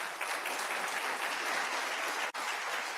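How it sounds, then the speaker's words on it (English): Audience at the opening session of an international human rights summit gives sustained applause, even and fairly distant, with a brief gap near the end. "Let's give applause,"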